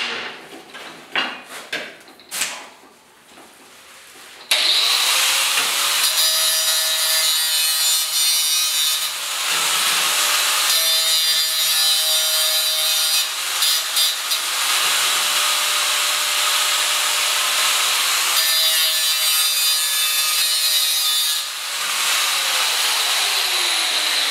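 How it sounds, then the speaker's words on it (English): Angle grinder grinding the porcelain coating off a steel grill at the spots to be welded, a loud, steady, close abrasive whine running for about twenty seconds after a few scattered knocks and scrapes. "We're just going to grind off the spots where our welds are going to be. Just use a grinder."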